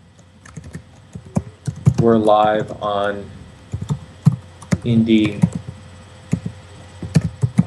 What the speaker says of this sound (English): So I'm just typing in